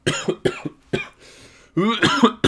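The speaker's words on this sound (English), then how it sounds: "I need to cough." Several harsh, throaty coughs come in quick bursts, close and loud, with a brief pause before a final cluster of coughing.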